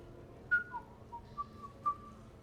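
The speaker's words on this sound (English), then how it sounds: "Are you whistling?" A person whistling in Mass Effect 3, a short, quiet tune of a few clear sliding notes with small gaps between them, heard alone against faint background ambience.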